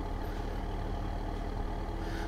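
A tractor engine idles in Farming Simulator 15, a steady low diesel rumble holding constant and fairly close throughout with no talk over it.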